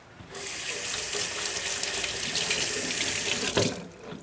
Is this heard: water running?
yes